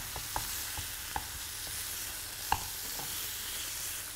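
Finely minced chicken, added to onions and garlic already sweated in the pan, fries with a soft, steady hiss, broken by a few sharp spoon taps and scrapes. No one speaks.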